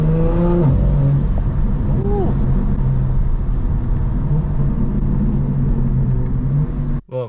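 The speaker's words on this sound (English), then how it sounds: "Car sounds crazy now with the downpipes." A BMW M4 fitted with new downpipes rumbles close by, opening with a couple of short revs that rise and fall, then settles into a steady loud idle before cutting off near the end.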